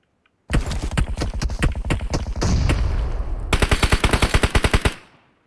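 Loud, close gunfire in PUBG Mobile: rapid automatic bursts that run into a dense stretch of continuous fire, then a final run of evenly spaced shots before a short fade.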